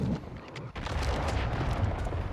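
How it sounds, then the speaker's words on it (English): Video game combat with a rumbling, booming roar of a cruise missile launch and heavy gunfire, a dense, loud wash of blasts sustained across a couple of seconds with a brief dip near the start. "Hostiles launched a cruise missile."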